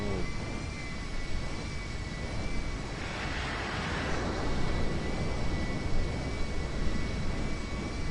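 Steady roar of a Pegasus aircraft in the video game GTA, a continuous loud engine drone with a constant whine that swells slightly midway, heard alone without talk.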